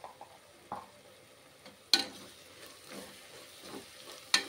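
Chicken curry masala with cumin powder and garam masala frying in a pan, a soft low sizzle broken by occasional scrapes and sharp taps of a spoon stirring.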